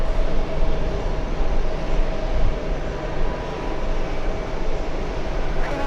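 A JetBlue airliner bound for Orlando spools up its engines, producing a loud, steady, broadband roar with a faint sustained whine running through it for the whole stretch.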